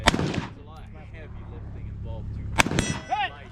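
Two loud, close gunshots crack at a shooting match, each followed by ringing metallic pings from steel targets, with a voice speaking quietly between them.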